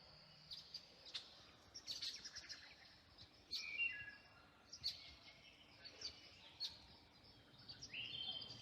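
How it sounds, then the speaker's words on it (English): Small birds chirp and sing in repeated short bursts around a pond on reclaimed surface coal mine land, moderately distant over a soft outdoor hiss, with a faint steady insect drone underneath. "I can hear birds in the background."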